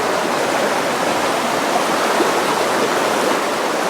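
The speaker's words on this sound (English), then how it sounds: "we're going to literally walk down this creek that is a tributary to the Fojnica River" A creek feeding the Fojnica River rushes steadily over its bed, a dense, even wash of flowing water close by with no voices.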